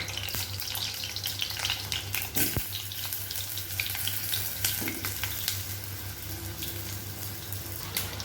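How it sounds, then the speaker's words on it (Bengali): Sliced potatoes fry in hot oil in a wok, giving a steady, fairly quiet hiss and sizzle with scattered crackles and pops. "প্রথমেই আমি এই আলুগুলোকে ভেজে নেব"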